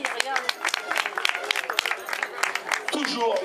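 A crowd applauding with scattered clapping while someone talks over it, at a youth cycling-school cyclo-cross race in Argentré-du-Plessis, France.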